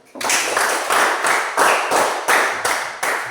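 A classroom of students gives a round of applause, close and loud, the clapping falling into a rhythmic group pattern of about six surging bursts in a row.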